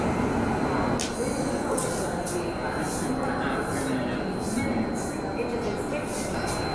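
Rajdhani Express train on the move while another train passes on the parallel track, a steady loud rumble of rolling stock with rhythmic wheel clatter and brief bursts of passing-car noise, voices talking over it.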